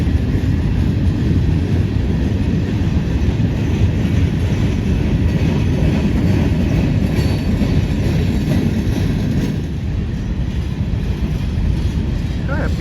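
A long freight train of boxcars and gondolas, including high-cube boxcars, rolls steadily past nearby with a loud, continuous low rumble and faint clatter of wheels on rail throughout.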